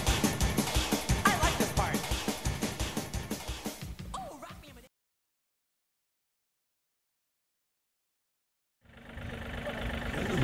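A tractor engine idles with a steady, rhythmic chugging pulse at moderate volume, then cuts abruptly to silence before a rougher mechanical hum returns near the end.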